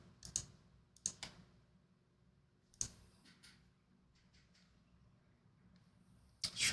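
Clacky computer keyboard keys struck in a few sparse bursts and isolated clicks, close and fairly quiet, with a louder flurry of key presses at the very end.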